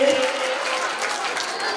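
An audience claps to welcome children about to perform a song, a brief burst of dense crowd applause, steady and moderately loud for about two seconds.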